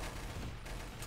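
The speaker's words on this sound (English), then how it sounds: "Lots of gunshots" Gunfire in the video game Trouble in Terrorist Town, a short burst of overlapping shots that sounds like a rapid fusillade, loud and dense but over within about a second.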